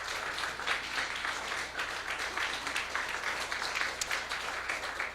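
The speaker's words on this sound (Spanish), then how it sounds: "¿Cuánto le dan un aplauso a Cristo Jesús?" A church congregation applauding at a Sunday service, sustained dense clapping from many hands that holds steady throughout, moderately far and without talk.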